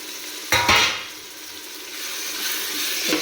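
Chopped tomatoes, five or six small ones, tipped into onions frying in a pan for a festival biryani: a sudden loud splash and burst of sizzle, then steady frying hiss with a faint stir at the end.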